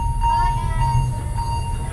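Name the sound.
Alishan Forest Railway cypress-carriage train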